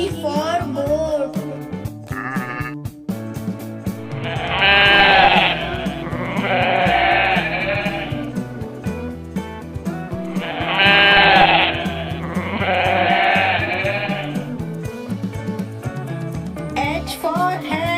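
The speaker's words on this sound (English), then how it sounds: "G for goat." Two bursts of goat bleating, each a wavering pair of cries, ride over a bright children's song backing track with its beat running throughout.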